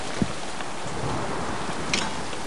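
Steady rain hiss in the Soldier of Fortune II video game, a dense continuous wash of falling rain with a couple of faint soft knocks, no voices.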